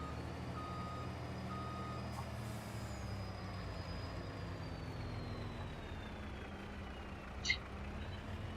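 A truck in Farming Simulator backs up with faint repeated reversing beeps over a steady diesel engine drone, with a brief hiss of air brakes near the end.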